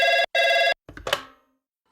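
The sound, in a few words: telephone ringing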